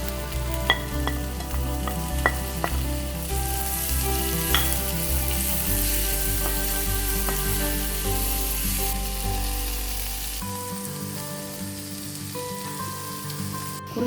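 Pomelo segments going into a hot pan for pickle, with a steady loud sizzle of frying and occasional sharp clinks and scrapes of a utensil, the sizzle easing slightly toward the end.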